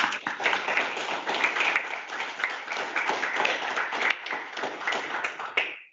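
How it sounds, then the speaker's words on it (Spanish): Seminar audience applauding after a physics talk on the top quark, with steady clapping from a modest group that fades out at the end. "aplaudimos también"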